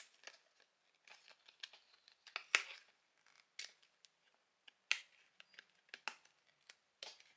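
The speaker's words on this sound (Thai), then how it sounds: "ผมนี่ฉีกได้แบบนี้มันจะมีรอยประนะครับผมแล้วก็ฉีกตามรอยประไปเลยนะครับ" Paper tearing along the perforated line of a Transformers card, a run of short, crisp rips and crinkles in separate bursts, close and fairly quiet, with no talk.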